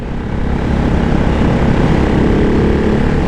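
The single-cylinder engine of a 2024 Ducati Hypermotard 698 Mono drones loud and steady as it pulls hard in fifth gear around 5,000 rpm on a curvy, hilly country road, with heavy wind rush throughout.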